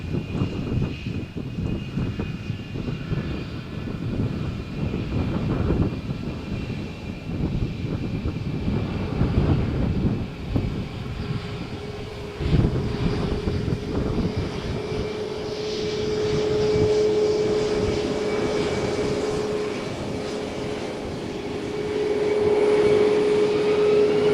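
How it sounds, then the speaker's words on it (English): A Lufthansa jet bound for Munich takes off from Malaga Airport runway 13 on a stormy morning, a sustained loud engine roar with a rising whine that swells and holds, heard from a distance without speech. "we are watching takeoff of Lufthansa flight to Munich"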